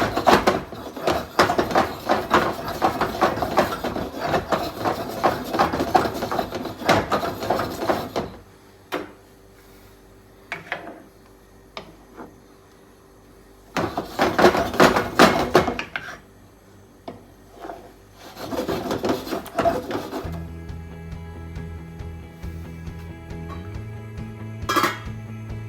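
Ricotta balls are moved around in a frying pan, with clattering and scraping of utensil against pan in busy bursts separated by quieter stretches, some faint clinks, and a low hum near the end.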